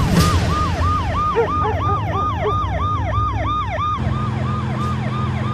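Ambulance siren wailing loudly and close in a rapid repeating up-down cycle, with a vehicle engine rumbling beneath it and the siren tone shifting pitch partway through, no speech.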